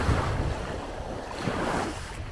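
Sea waves wash onto a swimming beach on Yonaguni island near the ferry terminal, a steady soft surf hiss with some wind noise, moderately faint and continuous.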